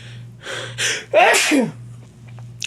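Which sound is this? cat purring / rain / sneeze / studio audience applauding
sneeze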